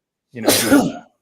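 A single loud, close human sneeze, a brief sharp burst lasting under a second with silence before and after.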